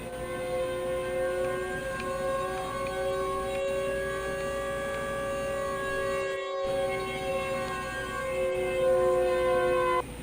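A steady, droning Siren Head siren wail from a Roblox game, with layered sustained tones held throughout, loud and continuous with no voices.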